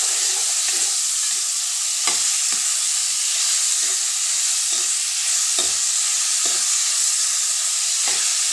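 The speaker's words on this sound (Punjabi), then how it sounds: "ਹੁਣ ਜਿਹੜੇ ਆਪਾਂ ਪਿਆਜ਼ ਚੋਪਰ ਕਰਕੇ ਰੱਖੇ ਤੇ ਉਹ ਤੇਲ ਦੇ ਵਿੱਚ ਐਡ ਕਰ ਲੈਂਦੇ ਹਾਂ" Chopped onions frying in hot oil for a stuffed round squash (chappan kaddu) curry, a loud, steady sizzle with a spoon scraping the pan in repeated strokes, no voices.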